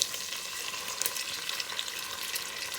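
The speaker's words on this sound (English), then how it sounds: "So just mix the garlic and the onion with the meat and let cook for about a minute." Garlic and onion sizzle with thinly sliced Japanese pork in a pan for a French garbure, a steady, close frying hiss that continues throughout with faint stirring.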